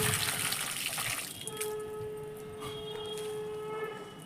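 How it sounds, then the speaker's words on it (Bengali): A mug of water is poured onto the soil of a potted lemon plant, giving a short splashing gush in the first second or so, followed by a quiet background with steady tones. "দিয়ে দেব এক মগ জল"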